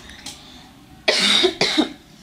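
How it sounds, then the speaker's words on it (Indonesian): Two harsh, close coughs in quick succession after a brief quiet moment, loud against a low background hum. "Jadi izin batuk bentar."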